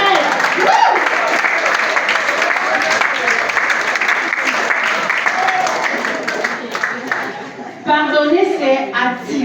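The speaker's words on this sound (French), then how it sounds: "Est-ce qu'on peut acclamer Jésus-Christ de Nazareth?" A church congregation applauds and cheers in acclaim of Jesus Christ, steady loud clapping filling the room, with a voice speaking over it near the end.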